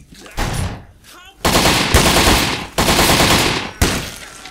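Machine gun fire in Postal III comes in three loud, sustained bursts separated by short breaks, with quieter noises at the start.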